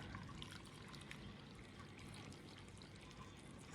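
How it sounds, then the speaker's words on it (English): Hot boiled brine pours from a pot over sliced radishes in quart jars, a quiet, continuous liquid splash and trickle with no talk. "Here is the brine that I have brought to a boil, and now it says just to pour it over the radishes."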